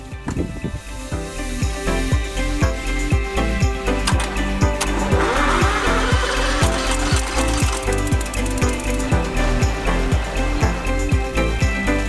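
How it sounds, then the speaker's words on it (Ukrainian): A Loncin two-cylinder, four-stroke, air-cooled 35 hp petrol engine on a wood chipper runs steadily and loudly close by, with a regular low pulsing rhythm and mechanical rattling throughout. "Це двохциліндровий чотирьохтактний двигун з повітряним охолодженням."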